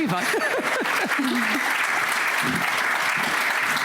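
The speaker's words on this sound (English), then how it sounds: "Give all our Olympians a big round of applause." A crowd applauds Olympians at a farmer welfare event, dense sustained clapping throughout, with cheers and voices mixed in near the start.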